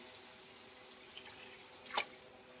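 Water poured into a pot for pork liempo sinigang with taro, a steady faint liquid rush running throughout, with one brief brighter splash near the end.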